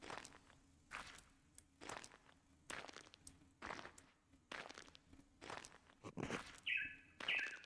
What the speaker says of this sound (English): Oh my god, it's a bird. It's a bird.